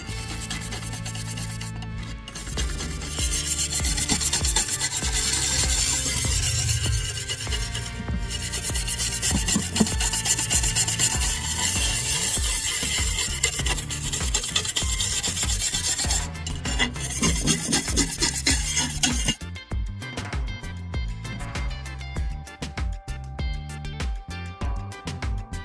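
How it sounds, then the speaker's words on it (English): Metal gets scrubbed clean with a wire brush after an acid rust-removal soak, a dense, continuous harsh rasping and scraping, close and loud, with rhythmic strokes and a brief change in texture near the end, no talking. "Use a wire brush to maximize the cleaning process."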